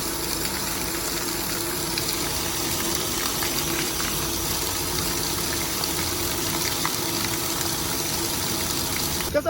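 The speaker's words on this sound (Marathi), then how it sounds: "मस्त पाणी चालू होतं, तिथं थांबलो आम्ही. मस्त तोंड वगैरे धुतो आता." Water runs steadily from an outdoor roadside tap or spout while someone washes their face, making a close, continuous gushing splash with no break.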